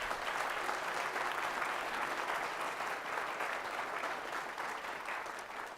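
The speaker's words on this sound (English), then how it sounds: "Let's give a round of applause to our parents." An audience at a school band concert applauds parents, a steady, continuous wash of clapping heard at moderate distance, holding evenly before tapering slightly at the end.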